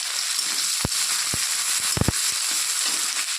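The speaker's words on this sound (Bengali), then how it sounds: "এখন তেলের মধ্যে দিয়ে দেব কেটে রাখা পেঁয়াজ আর কাঁচা পাকা লঙ্কা।" Sliced onions and green chillies hit hot mustard oil in a pan for a Bengali bitter gourd and fish chorchori, giving a steady close hiss with a few sharp crackles and pops, no talking.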